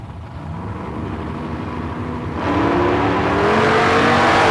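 A Mustang drag car accelerates hard down the strip, a distant rumble swelling abruptly into a loud, rising engine roar as it pulls away.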